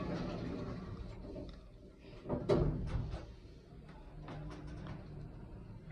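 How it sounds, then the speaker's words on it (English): Doors of a 2003 Otis Gen2 lift in the Metrocentre red car park in Gateshead slide shut with a soft rumble and a firm thud midway, amid low mechanical hum and faint background noise. "Doors closing."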